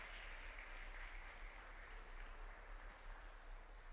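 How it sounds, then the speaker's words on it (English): Steady applause from a crowd at a high school softball state championship celebration in Weslaco, a dense, even wash of clapping that holds for the whole stretch without voices rising above it. "So a big round of applause."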